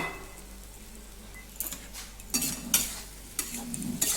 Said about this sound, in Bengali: টমেটো দিয়ে আমি ভালো করে মশলাটা কষিয়ে নিচ্ছি